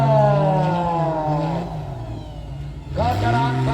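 An off-road 4x4 fitted with a Cherokee engine revs hard at the start of a national championship final on the Janoko circuit in Yogyakarta, its rising harmonic roar loud and close, easing off mid-clip and then climbing again, with a voice talking over it.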